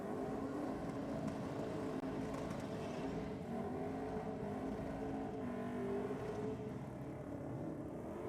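A Toyota Hilux 4WD ute runs at a Sydney Dragway 4WD theme night drag race, heard as a faint, distant engine roar that holds steady and then shifts slightly in pitch.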